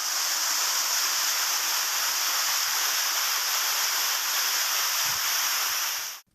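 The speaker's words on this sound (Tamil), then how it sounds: "ஐயர்மலை ரத்னகிரீஸ்வரர் கோயில் படிக்கட்டுகளில் மழைநீர் அருவி போல வழிந்து ஓடியது." Heavy monsoon rainwater pours like a waterfall down the stone steps of the Ayyarmalai Ratnagiriswarar hilltop temple in Tamil Nadu, a steady, loud, dense rushing wash that holds without a break until it stops abruptly.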